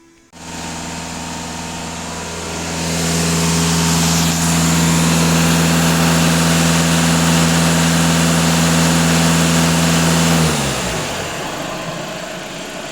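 A Skoda 2.0 TDI diesel engine runs steadily after a cleaning, with a constant low hum that holds for about ten seconds before the revs drop off near the end.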